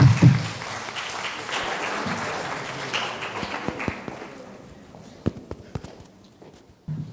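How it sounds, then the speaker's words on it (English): Warm audience applause at a leadership workshop greets a speaker invited onto the stage, starting as a dense roomful of clapping that thins after a few seconds into scattered, separate claps. "Please give him a round of applause"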